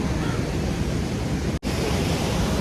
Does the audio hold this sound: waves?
yes